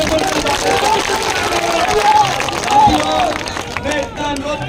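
A crowd at a Congress party nomination rally claps and murmurs, a continuous loud mass of applause and babble with voices rising through it.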